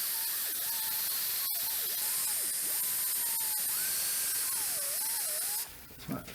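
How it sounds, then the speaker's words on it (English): Aerosol brake cleaner hisses steadily from a can onto the rear brake pads and rotors of a Ford Transit-250, one continuous close spray lasting several seconds before cutting off into quieter shop sound. "Spray that off lightly."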